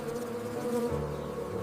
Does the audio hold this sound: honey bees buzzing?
yes